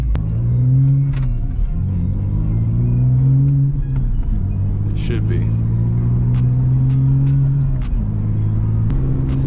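A BMW E46's engine rumbles and climbs in pitch through repeated rev rises and gear changes, heard up close from inside the car while someone talks over it.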